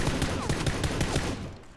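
Rapid bursts of automatic gunfire in PUBG on the Abandoned Resort map crackle continuously, loud and close, with a few distinct shots punching through before it tails off.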